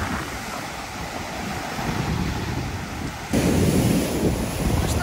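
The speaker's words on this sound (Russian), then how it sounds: "сегодня очень сильный муссонный ветер, обещает дождь, вот такие вот огромные волны" Large waves break on a beach at Fujairah under a strong monsoon wind, a loud continuous roar of surf with wind buffeting the microphone, surging louder near the end; no voices heard.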